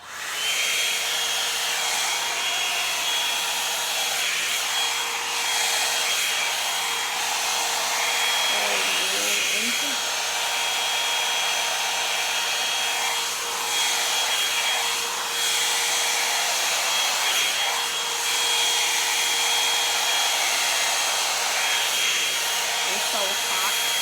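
A hair dryer blows steadily while drying hair, a close continuous whooshing whine with slight rises and dips in airflow throughout.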